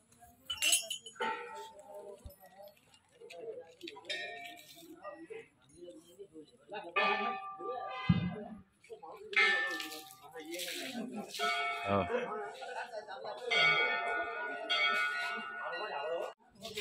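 Hindu temple bells are struck again and again in bursts of bright, ringing clangs with lingering tails. Several people talk and move about nearby between and under the strikes.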